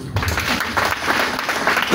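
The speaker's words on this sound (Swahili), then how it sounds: "Piga makofi." An audience claps together in a steady, dense burst of applause that stays fairly loud and unbroken from start to finish.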